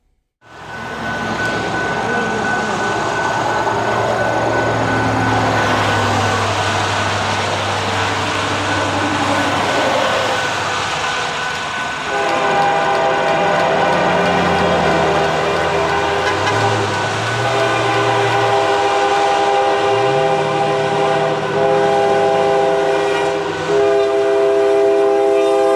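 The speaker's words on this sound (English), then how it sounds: "This train is UPZ G4MQ, which is a daily hotshot intermodal train" A Union Pacific intermodal stack train, a daily hotshot, passes with its horn sounding in long tonal blasts over a steady rumble of rolling cars, loud and close, with no voices.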